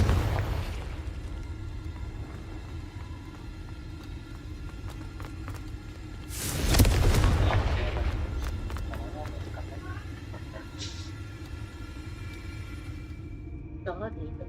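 A Confringo fire spell bursts in Hogwarts Legacy with a loud, broad explosive whoosh that swells and trails off over a couple of seconds, set amid game ambience and scattered clicks, with talk nearby.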